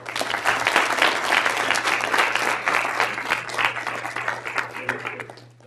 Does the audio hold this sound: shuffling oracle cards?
no